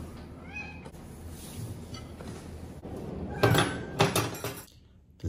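A cat near a meal table in Morocco gives a short meow near the start, followed by quieter background rustling and a few sharp clinks of dishes or glass toward the end.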